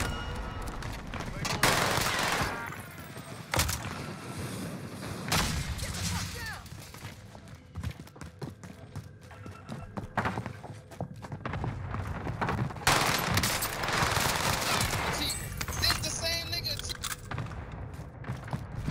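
Rapid gunfire rattles through a Call of Duty Warzone match, with bursts of automatic shots and booms in dense, loud volleys over most of the stretch, while players talk over the game sounds.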